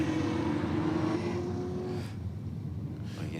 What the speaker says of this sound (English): You can hear that supercharger screaming away.